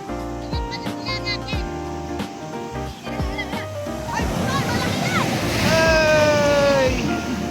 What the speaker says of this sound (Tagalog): Lakas pa rin ang alon, katulad kahapon.